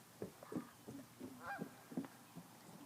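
Several faint honking waterfowl calls from birds near a pond, coming in short bursts from some distance away.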